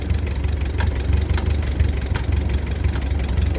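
A 1948 Ford 8N tractor engine idles at its lowest throttle setting, a steady, close, loud low rumble with an even pulsing beat and no voices over it.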